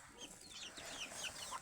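Chickens clucking softly at a distance in a quiet farmyard, short scattered calls over a faint background.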